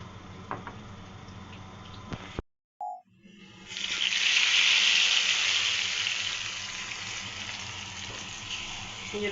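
Garlic, cumin seeds, curry leaves and black pepper hit hot oil for a tadka, bursting into a loud crackling sizzle after a brief pause and then settling into a steady fry, with no one talking.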